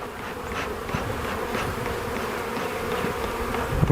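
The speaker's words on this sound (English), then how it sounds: "these bees are much more defensive" Dense buzzing of many defensive honeybees around an opened hive fills the air, a steady close swarm hum with individual insects zipping past.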